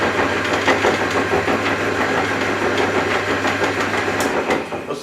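An old saw bench driven by an electric motor through double belting runs steadily and loud, a continuous mechanical hum and rattle that ends abruptly near the close, with no talking.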